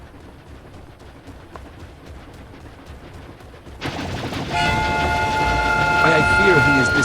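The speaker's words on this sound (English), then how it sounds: "I shall stop this runaway wolf train." A runaway train in Final Fantasy XIV suddenly bursts in with a loud rumbling roar and clattering wheels on the rails, with squealing metallic tones, after a quieter stretch of ticking and rustling.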